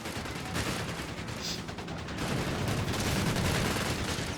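Heavy armored car gunfire in Company of Heroes 3 rattles in sustained bursts amid a dense, continuous battle din, loud and close throughout.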